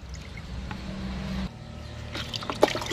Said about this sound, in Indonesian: Untuk pemberian di sini kita lakukan secukupnya saja, kita siram seperti ini.